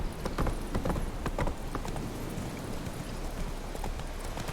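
Hooves clip-clop steadily as a horse is ridden in The Witcher 3: Wild Hunt, a continuous rhythmic trot close by with a faint neigh nearby and no voices.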